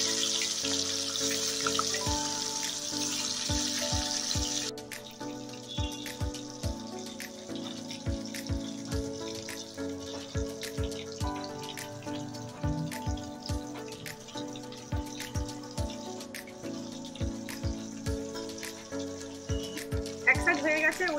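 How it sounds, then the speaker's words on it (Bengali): Fish fries in hot oil in a kadai, giving a steady crackle with scattered sharp pops and spits that continue throughout, close and moderately loud. "তেল গরম হয়ে গেছে, আমি মাছ ভেজে নিচ্ছি।"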